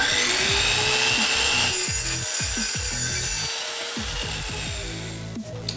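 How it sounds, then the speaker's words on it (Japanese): An Earthman tip-saw cutoff machine slices through an M6 steel bolt during a DIY jig build, giving a loud, steady grinding whine with repeated rhythmic pulses as the blade bites, fading slightly near the end. "前回紹介したこちらのねアースマンのチップソー切断機で切断していきます。"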